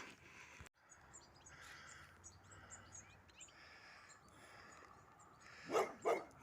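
A dog barks in the distance along a countryside hiking trail in the Gers, several faint separate woofs with light birdsong around, then two louder nearby bursts toward the end.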